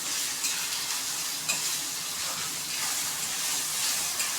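Salted ingredients fry in a pan toward golden brown while egg podimas is being cooked. A steady, close, hissing sizzle runs throughout, broken by soft stirring scrapes.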